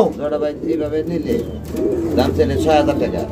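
Pigeons kept in a coop coo in low, rolling, repeated calls close by, with someone talking over them.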